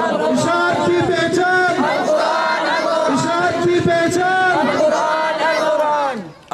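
A large crowd at a Quran completion gathering in Bisham roars back in unison to a religious chant, with loud sustained massed voices rising and falling for several seconds before dropping off abruptly.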